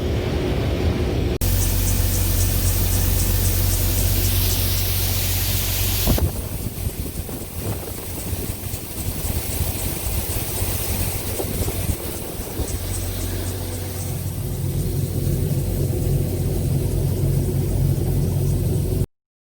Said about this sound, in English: I'm out in the field again, and I'm running the auger cart for the combine